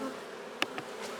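Honey bees buzz steadily at a hive, a soft, close drone with a few bees passing near.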